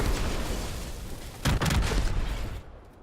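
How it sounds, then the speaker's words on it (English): A gas pump blowing up in Fortnite, a loud burst of explosion that rumbles for about a second over steady game noise before fading. "If you shoot a gas pump or a fuel tank, they'll blow up."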